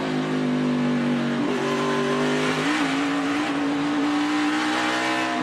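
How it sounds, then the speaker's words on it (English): NASCAR stock car at Watkins Glen roaring at high speed into the inner loop braking zone, engine note dropping as it downshifts and decelerates; loud, continuous, near, with no talk. "Watch how fast McMurray goes as he approaches that inner loop. 181 miles an hour into a braking zone."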